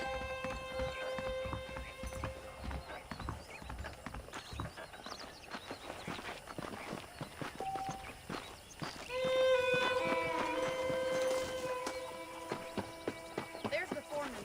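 Saddled horses in Red Dead Redemption clip-clop at a walking pace, their hooves knocking in an irregular rhythm while a horse whinnies, with music and someone speaking over them.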